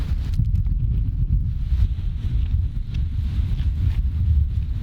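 Strong coastal wind buffets the microphone in continuous low roaring gusts, loud and rumbling throughout, with no speech over it.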